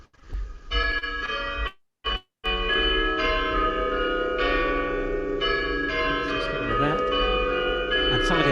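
Church bells ringing near a peregrine falcon webcam, layered sustained metallic tones overlapping continuously, with brief dropouts early on and some background voice-like sound mixed in.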